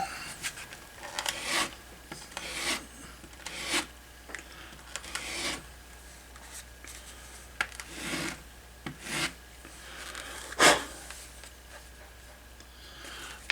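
Repeated rasping strokes of sanding the corner of a leather bifold wallet, like sandpaper rubbed back and forth over a small surface, close up in short irregular bursts.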